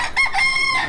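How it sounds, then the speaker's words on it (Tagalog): Roosters crow and hens cluck together in a crowded backyard flock beside a gutter lined with shanties in Manila, the calls loud and continuous over a short stretch with no voices. "napakaraming alagang manok dito sa gilid talaga"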